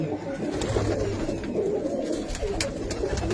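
Pigeons at a village sarpanch's house coo steadily in a dense, overlapping chorus, close and loud throughout.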